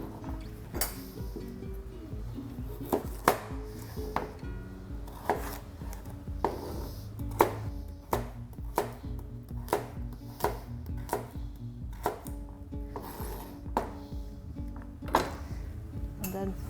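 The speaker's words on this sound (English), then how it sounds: "When we're chopping the carrots, we're using the bridge and then the claw technique to keep our fingers away from the knife." Knife chopping carrots on a cutting board: many crisp, irregular close taps over about seventeen seconds, sometimes in quick bursts, over a low background hum.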